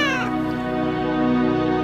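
A cat gives a single drawn-out meow, bright at the start and trailing into a lower, sustained tone, heard clearly and alone in a Spanish-language children's story of Puss in Boots.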